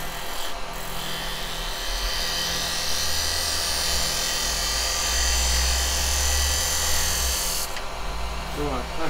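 Bowl blank spinning on a wood lathe while a roughly 80-year-old spindle gouge cuts a tenon, giving a steady, loud, continuous hiss and rumble that runs the whole length and eases slightly near the end.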